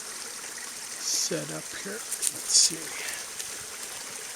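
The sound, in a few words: water of a mountain spring stream flowing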